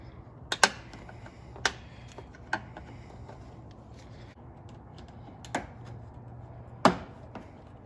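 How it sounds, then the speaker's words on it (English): Flathead screwdriver prying plastic pop rivets out of a plastic grille panel on a Nissan Frontier, Xterra or Pathfinder, giving a few sharp, isolated clicks and snaps spaced over several seconds against a low background hum. "I'm gonna be using a flathead screwdriver to remove these plastic little pop rivets here."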